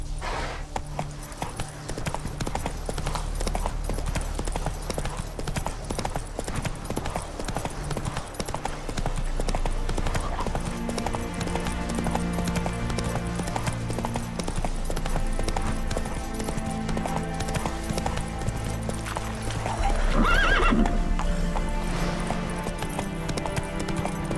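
Horse galloping in The Witcher 3 video game, with a steady rapid clip-clop of hooves throughout and a brief neigh near the end, over quiet background game sound.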